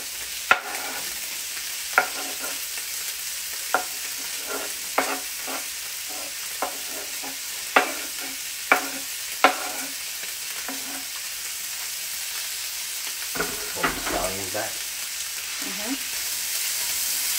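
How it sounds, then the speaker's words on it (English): Sausages browning with peppers in a pan for cauliflower jambalaya, a steady soft sizzle broken by sharp, regular scrapes and knocks of stirring, close and moderately loud, with light talk toward the end. "we are letting them sausages brown"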